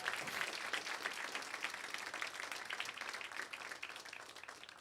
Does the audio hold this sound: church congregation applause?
yes